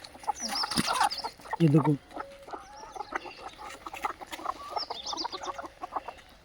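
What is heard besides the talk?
desi chickens clucking on an Indian poultry farm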